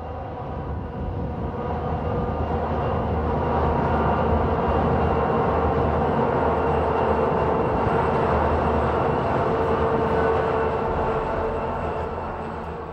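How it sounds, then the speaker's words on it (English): A heavy coal train rumbles past on Cajon Pass in a continuous, broad roar that swells slightly in the middle and eases toward the end. "This coal train may well be one of those early coal trains"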